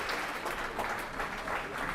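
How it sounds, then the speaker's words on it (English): A brief burst of clapping from MPs in the House of Commons chamber, soft and steady and lasting about two seconds. "I'm sorry we're still clapping"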